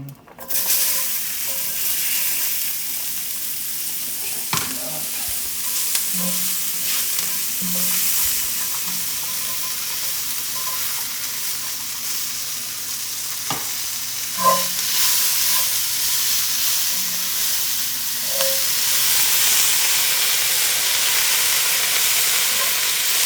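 Onions and corned venison fry in a skillet with a loud, continuous sizzle and hiss, broken by occasional clicks and scrapes of a utensil against the pan; no voices.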